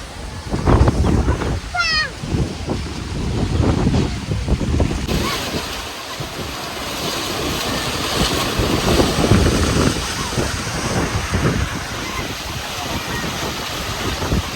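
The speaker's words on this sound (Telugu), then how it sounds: "క్లైమేట్ మొత్తం గాలితోనే నిండిపోయింది" Strong wind roars and buffets the microphone continuously in a village during a dust storm, with a brief voice near the start and rushing noise throughout.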